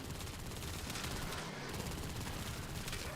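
Rapid gunfire from Warframe gameplay rattles continuously at a steady level throughout the short stretch, dense and even with no speech over it.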